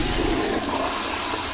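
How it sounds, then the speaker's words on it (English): A toilet flush in a bathroom, a loud, steady, close rush of water lasting the whole moment and easing slightly at the end. "I triggered the flush switch at the same time and escaped the crisis."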